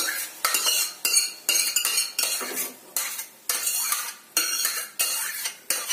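A spoon stirs carrot puree into cooked spinach in a metal pot, giving repeated close scraping and clinking strokes in a steady rhythm, loud and alone.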